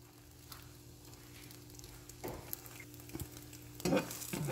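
French toast slices frying in a small pan, a steady soft sizzle with occasional louder crackles and pops, close and alone.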